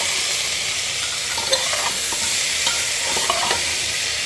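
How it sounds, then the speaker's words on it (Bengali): Vegetables for khichuri frying in oil in a pot, a continuous bright sizzle close up, with light scraping stirs and a couple of sharp clicks of the spoon. "সবজিটা ভালো মতো করে ভাজা হয়ে গেছে"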